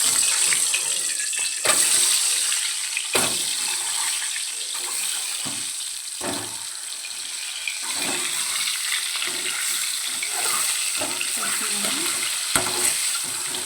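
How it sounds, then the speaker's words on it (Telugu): Whole boiled eggs roast in a hot pan for egg biryani, giving a steady close sizzle broken by frequent sharp scrapes and clicks of stirring throughout, with no voices. "ఎగ్స్ అన్నిటిని ఇలా రోస్ట్ చేసుకోవాలి."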